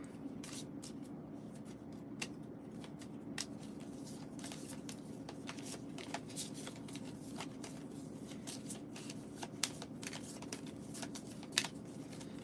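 A deck of cards is shuffled for a Space Marine Adventures tabletop game, with soft, close riffling and scattered crisp snaps at a low level in a quiet room.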